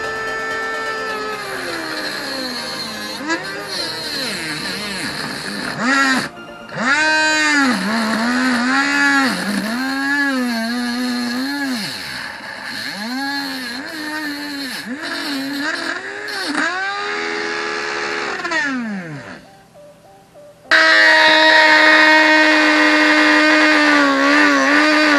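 A DIY 3D-printed portable multi-tool runs as a cutting machine, its small motor whining loudly and shifting pitch up and down as load changes, dropping out briefly near the end before surging back at full speed.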